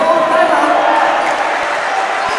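A crowd shouting at a Delta Cup 2023 basketball game, Apalit vs Ing Bayung Mexico: a loud, dense, sustained roar that fills the arena, with a commentator's voice mixed in.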